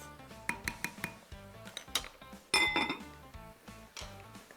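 Dishes, pots and cutlery clink and clatter in a home kitchen while someone tidies up during cooking, a run of sharp close metallic and glassy knocks at an irregular rhythm, with a louder jangle midway.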